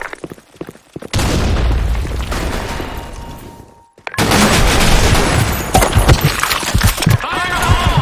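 Two heavy grenade blasts hit in a Counter-Strike round. Each is a sudden loud burst that decays into rumble, and rapid gunfire crackles around the second one.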